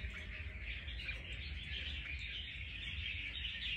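Red-whiskered bulbul (chào mào), a trapped fighting bird, calling with continuous bright chirps and whistles at moderate loudness over a steady low background rumble.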